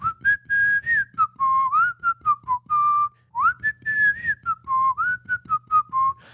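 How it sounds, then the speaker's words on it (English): A person whistles the jaunty folk tune Oh, Susanna, a clear melodic line of short bouncing notes and held tones with brief breaths between phrases, close and alone. "Whistling a jaunty tune"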